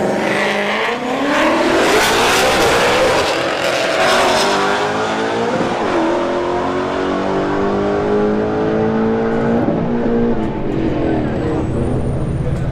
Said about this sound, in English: All right, blown S555 on the right lane and a Golf GTI here in the left lane.